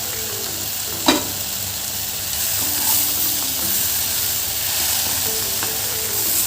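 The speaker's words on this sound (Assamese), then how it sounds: "এতিয়া আমি মাংস পিটি দি দিওঁ ইয়াত।" Pork meat dropped into a hot cooking pan, a brief clatter followed by a loud, sustained frying sizzle and hiss with occasional stirring, close up and without talk.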